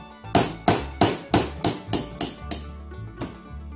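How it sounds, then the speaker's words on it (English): A hammer taps on a Taurus G3/G2 pistol's lower frame during disassembly, eight or nine sharp, evenly spaced metallic knocks that gradually soften, close and clear with no talking. "Hammer."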